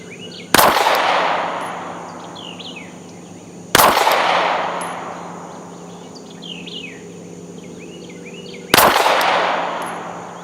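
Three single pistol shots fired at bull targets on an outdoor range, spaced a few seconds apart, each a sharp close crack with a long echoing decay, birds chirping faintly between shots.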